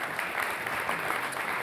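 Audience applause for a panelist at an international policy conference, a steady dense wash of many hands clapping throughout, moderately loud and without talk.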